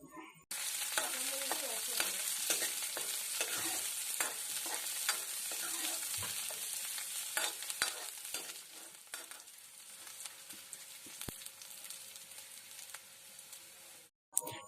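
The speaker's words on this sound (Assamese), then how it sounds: "এতিয়া পুনৰ আটাইখিনি আমি ভালদৰে ভাজি লম" Chopped onion fries in a pan with bottle gourd, giving a steady close sizzle broken by repeated scraping stirs of a spatula.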